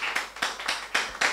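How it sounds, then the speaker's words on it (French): A church congregation applauding, with rhythmic bursts of clapping in a steady beat, close and clear, with no talking over it. "nous applaudissons pour le Seigneur"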